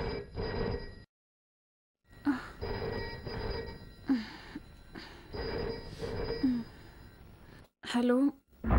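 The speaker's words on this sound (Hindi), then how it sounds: "मैं अपने घर में सो रही थी तब अचानक एक रात फोन की घंटी बजी।" A telephone bell rings in repeated bursts in a quiet home at night during a dubbed South Indian crime film, with short silent gaps and voices speaking between and over the rings.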